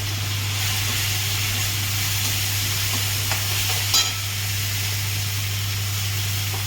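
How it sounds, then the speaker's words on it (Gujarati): Cumin, chili and ginger crackle and sizzle in hot oil, a constant close hiss with scattered pops and a low steady hum underneath. "વઘાર કરી નાખવાનો છે આપણે."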